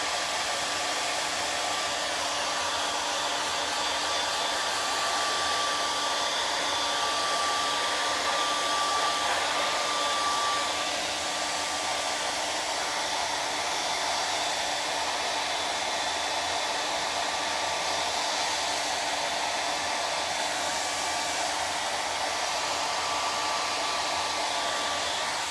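A hair dryer blows steadily while quick-drying a painted pumpkin, a loud, even whirring roar that holds without a break from start to finish, with no one talking.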